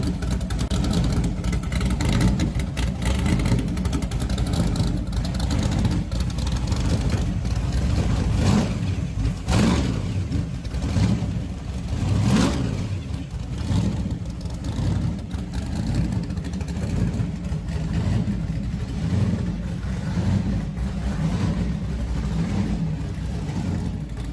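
A 1948 Ford Anglia steel-body custom blown hot rod engine rumbles and revs loudly, with repeated throttle swells over a deep, steady idle and no talking.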